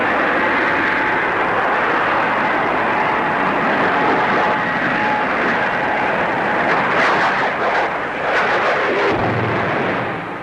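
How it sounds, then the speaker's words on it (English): A de Havilland DH-113 Venom twin-seat night fighter jet roars past at an air show, a loud, sustained broadband rumble and hiss that swells and wavers slightly throughout, with crowd or wind noise mixed in. "Venom's twin sister, the DH-113, intended for night fighting."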